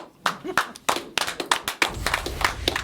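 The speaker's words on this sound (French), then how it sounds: "Waouh, nous applaudissons." A small group claps in a loose, uneven rhythm of distinct close hand claps during a French-language broadcast, short and lively with no one talking over it.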